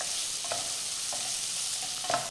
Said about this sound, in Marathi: आता बारीक चिरलेला कांदा घालायचा आणि कांदासुद्धा थोडा वेळ असा मऊसूत होईपर्यंत परतू